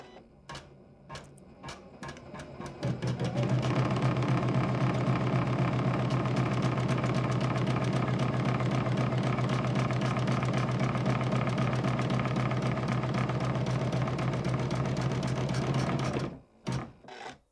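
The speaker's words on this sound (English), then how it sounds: "the machine is going to stitch all of the satin stitching for the shape" An embroidery machine stitches satin stitches for a shape, starting after a few short taps and then running as a loud, steady, fast mechanical whir with a rapid rhythmic needle pulse before stopping abruptly.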